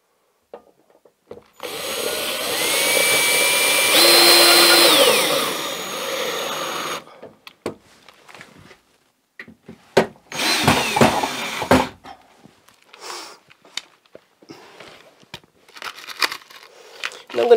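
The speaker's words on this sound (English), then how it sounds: "I'm going to add a few more screws" A power drill drives screws into a Leviton circuit breaker panel, with a long steady whirring run near the start and a few shorter bursts later, broken by clicks and handling noise.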